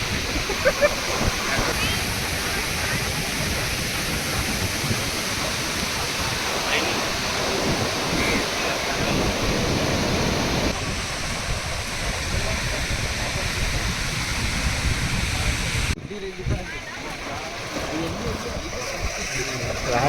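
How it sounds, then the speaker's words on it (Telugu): Ocean waves break on a rocky beach at Udupi in cold, rainy weather, a continuous loud roar of surf with gusting wind buffeting close by. "ఆ అలలు సౌండ్ విన్నారా?"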